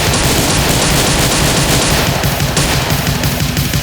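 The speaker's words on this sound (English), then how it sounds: "Multiple Secret Service agents pull out their guns and begin to unload on" Several Secret Service agents fire their guns at once, producing a dense, continuous barrage of overlapping rapid gunshots that stays loud and unbroken for the whole stretch.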